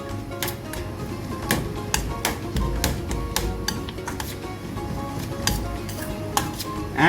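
Vinaigrette dressing is tossed through a dish for crumb-fried blue whiting fish, with irregular clinks and taps of utensils against a bowl over soft mixing rustle.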